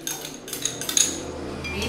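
Milk and butter being stirred in a bowl with a metal utensil, a few light clinks and scrapes against the bowl in quick irregular succession, close and fairly quiet.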